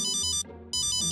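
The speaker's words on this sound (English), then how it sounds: "That's my cell phone." A cell phone rings indoors with a bright electronic ringtone in two bursts separated by a short gap, fairly loud and alone.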